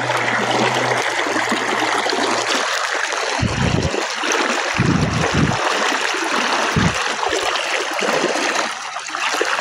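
River water rushes steadily around someone wading knee-deep across, a continuous broadband wash with a few low splashy thumps from steps, close and loud, with no talking.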